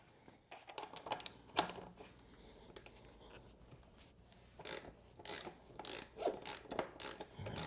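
A 3/8-inch drive ratchet clicks in quick, close bursts of pawl ratcheting with brief pauses between strokes, used while fitting wheel and fork parts on a BMW S1000RR track bike in a workshop.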